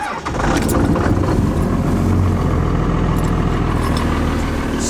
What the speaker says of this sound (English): Clutch in, quarter throttle.